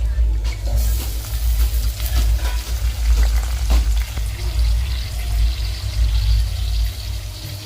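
Chicken frying loudly in a pan, a steady, dense sizzle and crackle with occasional stirring scrapes, close and continuous throughout.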